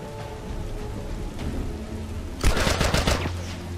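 Rapid gunfire in The Last of Us, a steady crackle that swells into a loud, dense burst of shots near the end, with no talking.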